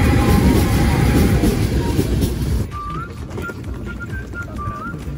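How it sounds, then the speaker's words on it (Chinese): A train pulls into a station in Slovakia: a loud, broad rumble and rattle for the first half, then a quieter stretch with a series of short whistle-like tones over the ongoing background noise. "那我们火车要来了"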